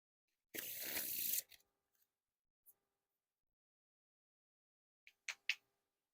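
A close, quiet ripple lasting about a second as a deck of Postage Paid playing cards is spread into a wide fan, followed by silence and then a few faint clicks and taps of the cards.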